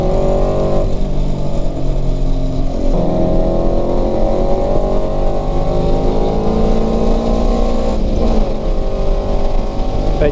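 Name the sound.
Mitsubishi Evo shooting flames, exhaust backfire pops on track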